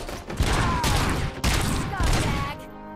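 Gunfire in the video game Robocop Rogue City, played on PS5: several heavy, close bursts of shots with brief pauses between them, and voices shouting underneath.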